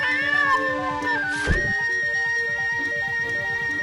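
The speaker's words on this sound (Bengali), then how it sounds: "এই বলে বজ্রমুকুট সেই মিষ্টি একটা বিড়ালকে খেতে দেয়" A cat meows in a Bengali animated fairy tale, a single drawn-out, wavering cry that rises above continuous background music.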